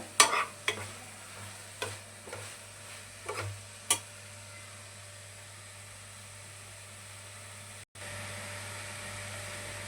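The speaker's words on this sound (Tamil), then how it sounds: "நல்லா கிளறி கொடுத்து அந்த பச்சை வாசனை போகிற வரைக்கும் கொஞ்சம் நேரம் கிளறி கொடுக்கலாம்" Masala for mutton kurma is stirred in a pan, a few sharp scraping strokes in the first seconds, then a soft, steady frying sizzle that carries on alone.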